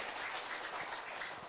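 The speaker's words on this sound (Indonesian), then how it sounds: "Berikan sekali lagi tepuk tangan yang meriah untuk kita semua." Crowd applause fills a Democratic Party gathering in West Kalimantan, Indonesia, a dense, steady wash of many hands clapping throughout without a break.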